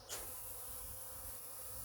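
Steady, close buzzing of many honeybees humming together at a feeding station in North Texas, continuous and fairly quiet with no voices.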